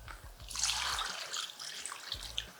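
Water pours from a tap into a bowl of rice for Trinidad-style arroz con pollo, a steady broadband splashing rush that swells and then runs on with small gurgles and drips close by.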